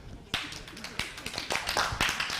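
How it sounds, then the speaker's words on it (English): Several people clap in a short, loose burst with sharp, uneven hand strikes, as if played back from a recording, while talk runs over them. "there was a lot of people clapping"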